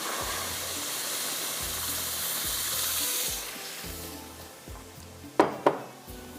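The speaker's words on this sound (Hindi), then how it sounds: "अब बिल्कुल बड़े आराम के साथ आपने इसमें दूध शामिल करना है।" One litre of milk pours steadily into a pan with a close, hissing rush that fades out after a few seconds, followed by a couple of sharp metallic clinks.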